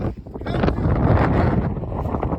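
Strong, roaring wind blasts steadily across a microphone at a glacier, a continuous buffeting rush that fills the whole clip with no pause.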